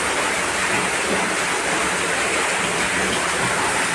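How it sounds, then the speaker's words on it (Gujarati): Water from a borewell gushes loudly and continuously into a well, a thick, steady roar like a strong flow rushing nearby, with no speech over it. "અવાજ તો જવો પાણીનો"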